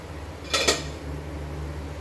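A lid set down on a cooking pan while mini pizzas cook over low heat, giving two quick metallic clinks close together over a steady background hum.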